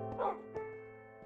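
Dogs barking in the video game Minecraft: two short, clipped barks about half a second apart, moderately close, over a steady tonal game backdrop.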